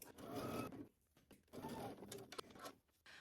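A domestic sewing machine stitches a garment seam for a Simplicity 9550 pattern, including back stitching, running in two bursts of steady mechanical whirring with a brief pause between them, close and moderately loud.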